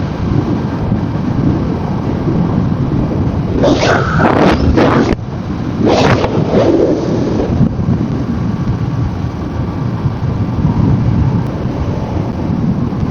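Strong wind buffets the microphone while riding a Yamaha motorcycle on a busy road with many bikes and cars, a loud, constant roar throughout with brief bursts of louder noise in the middle.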